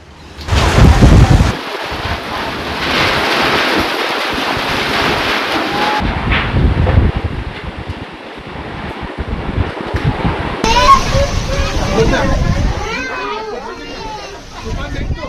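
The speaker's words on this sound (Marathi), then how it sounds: "कल्याण मध्ये सुद्धा वादळी वारे अत्यंत वेगाने वाहतायत" Strong storm winds near 107 km/h roar and buffet the microphone during unseasonal rain in Kalyan, Thane, a heavy rumbling wash that continues unbroken, with voices partly buried beneath it.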